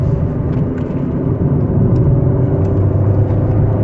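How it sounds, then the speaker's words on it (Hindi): The petrol engine of a fifth-generation Honda City ZX with a manual i-VTEC drivetrain rumbles and revs steadily from inside the cabin during a braking test, a loud, continuous low drone with no talking. "and there the engine rose to power"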